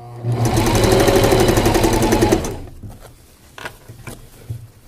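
Sewing machine running fast as it stitches the crotch seam of a pair of pants, a loud steady mechanical whir for about two seconds that stops abruptly, followed by quiet fabric handling.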